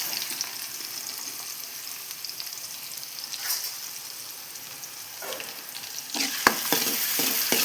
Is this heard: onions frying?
yes